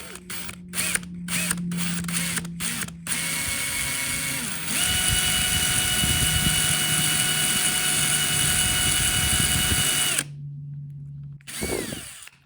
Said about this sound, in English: Let's try this. One-handed drilling.